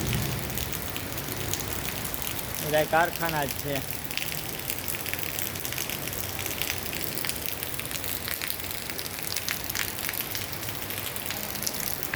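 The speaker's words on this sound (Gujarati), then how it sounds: "જોઈ કેવો વરસાદ આવે છે" Heavy rain pours down in Jetpur during a power cut, a dense, continuous hiss that fills the clip, with someone speaking briefly over it.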